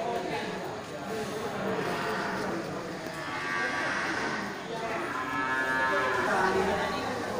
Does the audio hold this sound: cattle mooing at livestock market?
yes